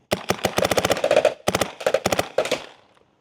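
An Empire BT D-Fender Elite paintball marker with an Apex barrel fires in burst mode, a loud close rapid string of sharp pops in quick clusters, ending with a short fading tail.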